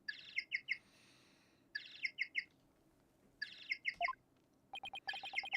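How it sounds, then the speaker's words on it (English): Chirping bird-call phone ringtone in the Ace Attorney Dual Destinies video game, sounding in three quick bursts of bright, high tweets separated by pauses, then a rapid run of chirps at the end, clear and alone. "That's my ringtone."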